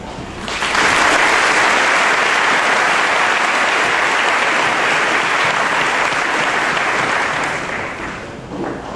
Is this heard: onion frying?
no